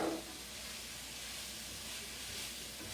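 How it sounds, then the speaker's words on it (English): Mushrooms cooking with onions and garlic in a pan give off a steady, even sizzling hiss that runs the whole time at moderate loudness, with a brief louder burst at the start. "Now I'm going to add in the mushrooms."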